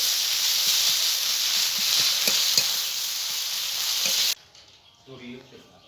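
Spice paste for a bhola fish jhal curry sizzles loudly in a pan, a dense steady hiss with faint stirring ticks. It cuts off abruptly and leaves a quieter tail with a brief voice.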